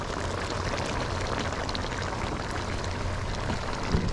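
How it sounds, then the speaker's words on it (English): Water poured into a pot of simmering oxtail and butter beans, a steady splashing trickle with no speech. "So I'm just gonna add a little bit more water just to give it some gravy"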